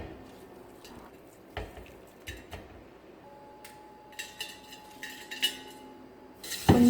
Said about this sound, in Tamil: இப்போ ஒரு பித்தளை பாத்திரம் விளக்கி கட்டுறேன்.